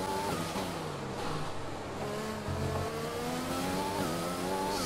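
An F1 2020 race car in a video game's Mexico qualifying session runs at high revs, with its engine note rising and falling through gear changes. The sound is loud, continuous and close, with no talking.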